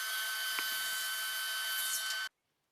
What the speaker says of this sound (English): Now I'm pre-drilling 1/8-inch holes to screw the aluminum track for the stop block system into